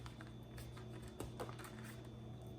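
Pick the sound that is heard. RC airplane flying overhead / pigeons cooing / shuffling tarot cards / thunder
shuffling tarot cards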